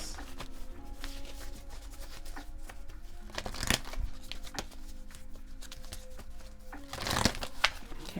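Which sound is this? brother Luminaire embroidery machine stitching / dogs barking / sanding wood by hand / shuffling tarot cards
shuffling tarot cards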